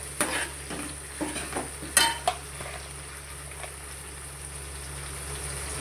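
Food frying in a pan gets stirred with a few light scraping and clinking strokes near the start. A steady sizzle carries on underneath, close by and fairly quiet.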